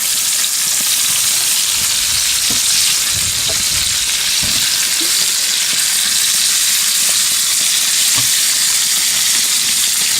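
Tri-tip steak sears in butter in a very hot pan, a loud, steady sizzle with a continuous crackling hiss and occasional pops and stirring scrapes, close up and with no talking.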